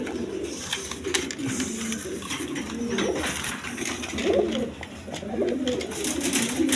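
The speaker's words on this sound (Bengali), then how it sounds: "একদম ফ্রেশ কবুতর দেখেন।" Pigeons coo steadily in a crowded breeding farm, soft rolling calls overlapping from several birds nearby over a busy background hum, with no voices.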